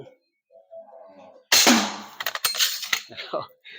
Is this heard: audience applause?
no